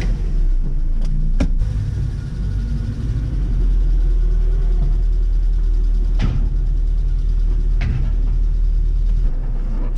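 A Nissan Sunny truck (Datsun 1200) fitted with electronic ignition starts and settles into a steady, cold idle, a loud continuous low rumble with a few brief clicks or knocks over it.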